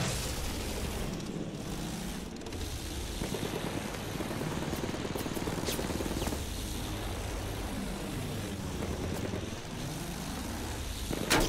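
A fighter plane in the video game Battlefield 1 roars through a busy battlefield, its engine drone rising and falling as it passes, layered over rumbling explosions and dense combat noise for the whole stretch.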